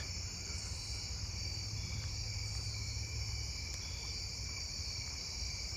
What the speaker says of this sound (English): I'm hearing a two-spotted tree cricket